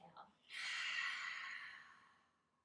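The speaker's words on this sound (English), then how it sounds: "Open your mouth, exhale." A single long open-mouthed exhale during a chair yoga session, a breathy rush that swells quickly, holds, then tapers away close to the ear, preceded by a faint intake.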